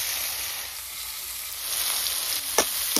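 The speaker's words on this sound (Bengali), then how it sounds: "লবণ দিয়ে আলু ভালো করে ভেজে নিই" Potatoes frying with salt in a pan, a continuous bright sizzle with a couple of sharp stirring clicks near the end, close and steady with no voices.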